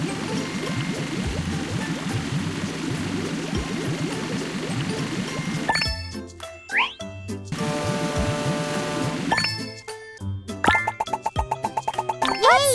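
Cartoon water splashing effect in a children's alphabet song: a bubbly watery backdrop gives way to bright plopping and dripping splashes in quick bursts, fairly soft, with no talk.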